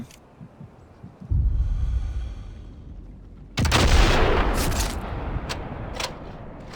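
Gunfire in the Sniper Elite Resistance game: two heavy, booming shots about two seconds apart, each with a long rumbling tail, followed by a few sharper distant cracks.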